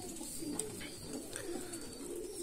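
Pigeons coo softly in a low, repeated murmur from a backyard coop, a steady throaty burble with a few faint chirps above it and no talk.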